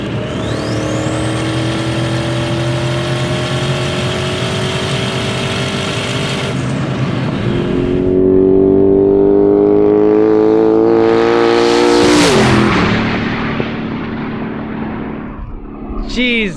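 An 1800 hp Cadillac CTS-V with a 427ci LSX V8 on twin 76mm turbos at 40 psi accelerates hard on the street, a loud engine roar climbing through gear changes, with a sharp blow-off burst near the end.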